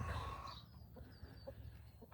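Chickens clucking softly nearby, a few scattered low clucks and calls over quiet background.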